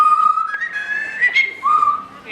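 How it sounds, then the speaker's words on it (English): A zoo parrot whistles a short tune, clear and close, with bright sliding pitched notes rising and falling over a couple of seconds, with no talk over it. "Poco, can you whistle us a tune?"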